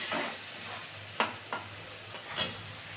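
Masala spice paste stir-fried with potatoes in hot oil, a soft continuous sizzle broken by several sharp scraping stirs of the spatula, close and fairly quiet.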